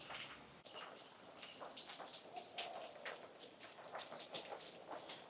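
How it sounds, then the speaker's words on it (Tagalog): Heavy rain pours down in Hawaii, a constant hiss spotted with sharper drops striking nearby surfaces, heard faintly and without any voices. "Rain getting harder."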